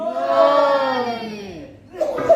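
A mosque or majlis congregation shouts a loud, sustained response in unison to a Naara-e-Haidari chant, a swelling crowd roar lasting over a second before fading, then a fresh burst of voices rises again.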